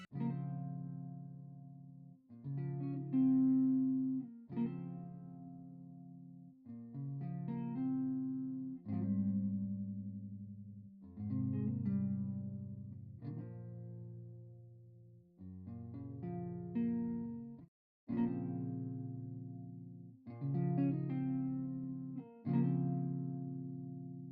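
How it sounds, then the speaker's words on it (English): A software guitar in FL Studio plays a plucked melody in separate phrases, notes varying in loudness and attack through velocity changes, with short pauses between groups and a soft ringing decay. "with the guitar, I'm gonna show y'all how it sound with the velocity changes and without it"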